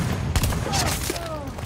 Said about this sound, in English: the shotgun does so much damage